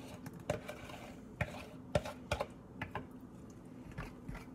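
A spoon knocks and scrapes against a baking bowl as wet mixture with coconut sugar goes into dry mixture, giving irregular sharp clicks and taps at close range, fairly quiet.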